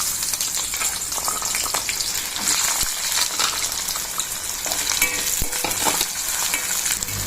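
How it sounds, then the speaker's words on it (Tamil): Small onions frying and being stirred in hot oil in a kadai make a loud, continuous sizzle up close, with scraping stirs and occasional clinks throughout. "இப்போ ஆயில் ஹீட் ஆயிடுச்சு. வெங்காயம் ஆட் பண்ணிக்கலாம்."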